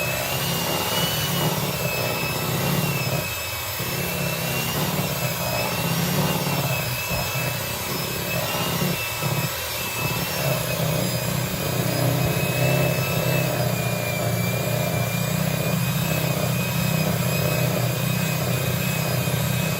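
An electric hand mixer beats chocolate frosting in a bowl, a continuous loud motor whir with a rough grinding texture that holds steady for the full stretch, close by with no talking.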